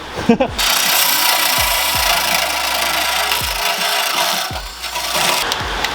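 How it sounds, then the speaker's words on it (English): A wire wheel spun by a drill grinds harshly and steadily against a Mazda Miata drift car's engine bay during a wire tuck, with the motor briefly winding down and restarting several times. "I always go over it with a wire wheel on a drill"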